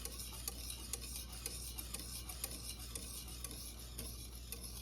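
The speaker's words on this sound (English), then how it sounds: "Let me put Don Q right here as we whisk." Whisk beating a coquito mixture with rum in a bowl, quiet rapid clicking and scraping strokes in a fairly regular rhythm over a faint background hum, with no talking.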